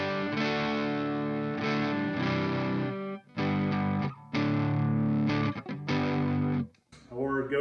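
An electric guitar plays sustained chords and notes through an Orange Terror Stamp amp pedal with overdrive. The tone is thick and distorted, with short breaks between phrases, loud and close, and there is no talk.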